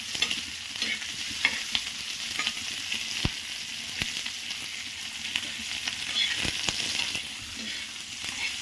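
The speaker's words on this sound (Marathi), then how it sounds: "भाजून घेणार आहे अजून थोडा वेळ कांदा" Onion fries in a pan, crackling and sizzling steadily with a soft hiss, broken by occasional sharp taps and scrapes of stirring, heard up close with no talking.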